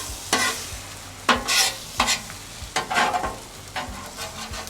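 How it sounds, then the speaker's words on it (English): Scrambled eggs sizzling on a Weber Slate griddle while a spatula scrapes and pushes them around in a series of sharp, close strokes about every second over a steady low sizzle, with no talk. "Scrambling eggs is not gonna take too long."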